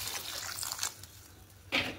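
Water pours into a pan of aloo posto, potatoes cooking with poppy seed paste, a soft close splashing trickle that ends with a brief louder splash.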